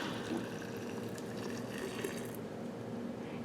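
Hot water just below a boil, about four cups, poured over mimosa blossoms in a glass jar, a steady, moderately quiet liquid rush with no talking.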